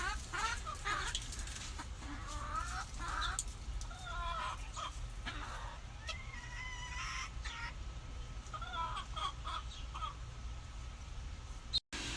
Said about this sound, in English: Here you go, chickens. Here's some smashed papaya for you.